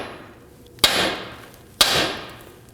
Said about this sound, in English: we're going to go ahead and strike the knuckle right here, and that should release this tie rod end